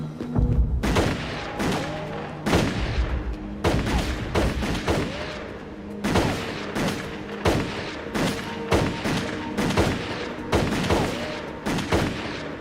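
Cutscene gunfire from the 1997 video game Dark Drive as men in black shoot at a fleeing figure, with repeated loud sharp bursts of shots at irregular intervals over a low droning score and no talk.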